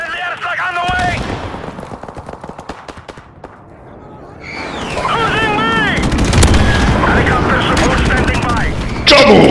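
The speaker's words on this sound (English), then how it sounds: "Friendly airstrike on the way." Rapid bursts of automatic gunfire crackle in Call of Duty Modern Warfare Remastered, dropping briefly before an airstrike brings heavier layered blasts and continuous shooting; game voices call out over the loud, dense combat.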